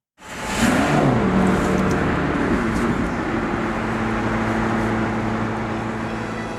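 A car cruises on a highway road trip toward Cologne, producing a steady, broad roar of engine and road noise that starts abruptly and holds constant, close and loud, with no talking.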